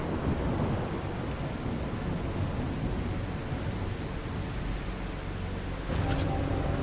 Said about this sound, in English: Through the storm we go again.